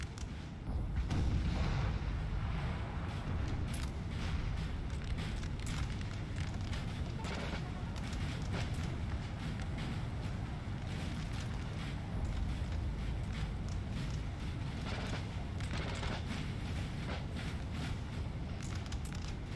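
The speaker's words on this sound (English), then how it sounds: "blasting a section of it open with artillery or rockets" Artillery and rockets pounding fort walls during a siege battle in Napoleon Total War, a dense continuous roar of booming blasts and crackling fire layered with battle din, loud and sustained throughout.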